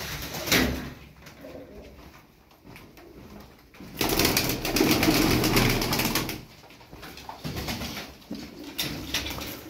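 Pigeons from a single coop cooing and fluttering close by, bursts of soft calls and wing rustles rising and falling over about ten seconds with no talk.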